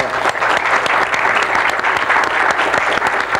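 Dense, sustained applause from a live audience at a 1979 televised interview with the painter Raphael Soyer, a steady wash of many hands clapping at close range with a few faint voices underneath.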